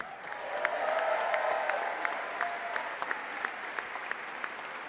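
Applause from a press conference audience announcing a St. Louis soccer team, a moderate, steady patter of many hands with a few louder individual claps, thinning toward the end.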